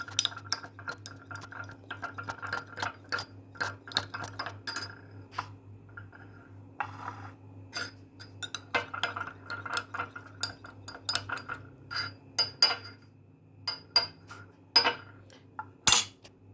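A small spoon clinks and scrapes in a bowl while stirring a coffee face mask mixed with lemon juice and olive oil. The taps are quiet and irregular and come in scattered bursts, with no voices.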